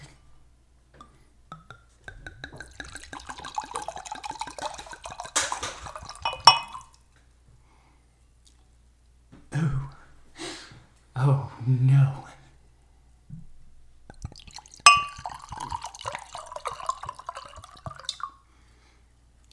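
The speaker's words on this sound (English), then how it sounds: "time for the ASMR pour" Cheap champagne is poured into glasses with a fizzing, trickling stream in two stretches, close and soft, plus a few plops. Brief voices come between the pours.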